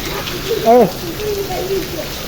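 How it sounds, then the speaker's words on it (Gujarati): Heavy summer rain with hail keeps up a softer continuous hiss in the background while a person talks briefly over it in the foreground. "જો મિત્રો વરસાદ વધવાની તે ઓલી છે ઘટવાનું નામ નથી લેતો"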